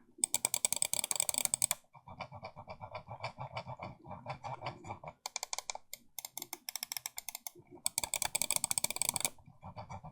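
Rapid, crisp clicking of an Xtrfy M8 computer mouse close to the microphone comes in dense bursts separated by short pauses, with some lighter, softer clicks between them.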